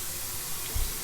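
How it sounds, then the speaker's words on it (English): Water runs steadily from a sink tap down through a freshly repaired drain, a soft continuous hissing rush with a brief low gurgle near the end, close and without talk. "have the water running through the drain"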